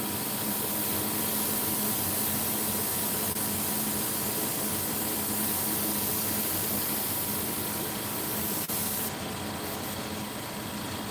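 An airbrush sprays paint in a steady, close hiss that runs unbroken throughout, with a faint compressor-like hum beneath and a slight shift in tone near the end.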